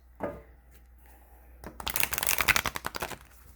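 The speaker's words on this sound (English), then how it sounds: "I know the cards need a really good shuffle" A new deck of Moonology oracle cards is shuffled up close, a brief riffle of crisp rapid flutters after a soft handling sound.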